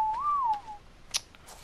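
A single short rising-and-falling whistle calls a dinosaur in a video game, clear and close, followed by a few faint clicks.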